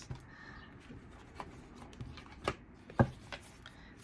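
Tarot cards are shuffled and handled at close range. The sound is quiet, with soft riffling and a few sharp card slaps spaced irregularly.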